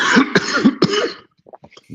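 A man coughs in a few loud, harsh bursts close to the mic, with a throat-clearing edge, before things fall to near silence with faint small sounds.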